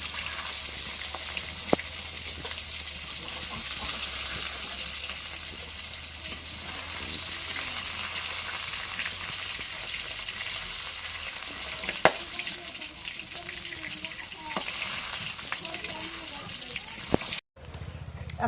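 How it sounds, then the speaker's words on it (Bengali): Fish fries in a pan with a steady broadband sizzle throughout, broken by a few sharp clicks and spatters, and briefly cuts out near the end; no clear talk. "এখন মাছটা ভাজা হয়েছে"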